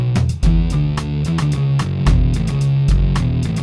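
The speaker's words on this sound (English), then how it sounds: "And then with the drums, it sounds like this." A homemade produced beat plays drum hits in a punchy, regular rhythm over a gritty looping bass line, loud and full throughout with no one speaking.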